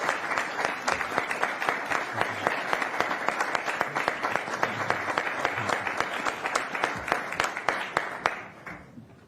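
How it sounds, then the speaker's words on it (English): Applause at a Puyallup city council meeting, a modest room of people clapping in a steady, fairly close patter that fades out at the end. "you deserve a round of applause, Carrie"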